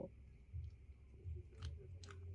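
A pet eating food up close, with soft irregular crunching and chewing bites that come in short clusters against a quiet room and no voices.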